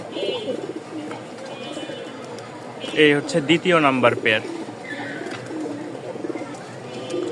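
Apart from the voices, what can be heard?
pigeons cooing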